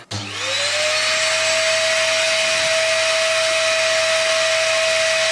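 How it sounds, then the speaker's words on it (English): A vacuum cleaner whines steadily and loudly from start to finish after a brief startup, with a constant high-pitched drone. "Vacuum cleaner going again."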